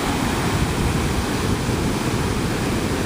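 Big ocean waves breaking on the West Kauai shore make a constant, thick roar of surf with no lulls, loud and close, with no voices heard.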